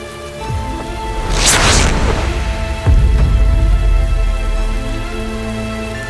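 Steady, loud rain pours down in an outdoor scene of a period drama, a continuous dense hiss of drops on surfaces with no talk over it.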